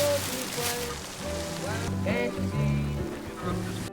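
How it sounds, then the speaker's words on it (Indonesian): Heavy rain pours down steadily on a surface, a dense continuous wash with tonal music layered over it throughout. "Di saat hujan semakin deras"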